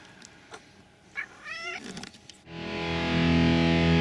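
A pet cat gives a short rising meow near the middle, close and clear, after some faint scattered sounds, before a loud steady broadband rush with low hum takes over.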